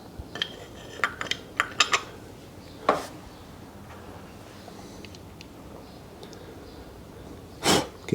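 Dellorto carburetor float bowl refitted on a Ducati 900SS bevel, a few close metallic clicks and taps of parts being handled, with short bright clinks spaced apart and a louder rattle near the end.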